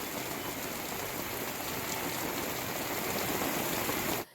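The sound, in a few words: heavy unseasonal rain in Pune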